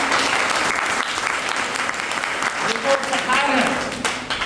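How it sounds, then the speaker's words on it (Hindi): Audience applause at a business motivational seminar, continuous brisk clapping from many hands, fairly close and loud throughout, with some voices faintly mixed in beneath it. "उनके लिए ताली बजाओ"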